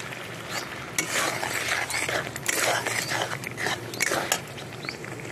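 Chilli powder and ground spices being stir-fried in a pan for a homemade vegetarian ghugni, a steady scraping and stirring with intermittent sharper clatters of the spoon against the pan, close and continuous, with no talk.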